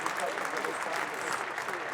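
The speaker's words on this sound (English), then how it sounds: "Can we get some clapping?" A crowd claps in a dense, sustained spatter of applause, moderately loud and steady, with voices chattering underneath throughout.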